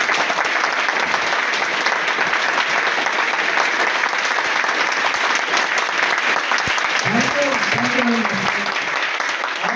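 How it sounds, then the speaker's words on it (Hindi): An audience at a live stage demo event bursts into sustained, loud applause, dense clapping that runs throughout with cheering, and a presenter's amplified voice comes through briefly near the end. "तो वंस अगेन इन सभी के लिए एक बार जबरदस्त क्लैप होनी चाहिए।"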